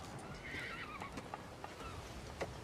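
A horse whinnies nearby in Game of Thrones, a high wavering neigh, with faint hoof clops and outdoor background noise.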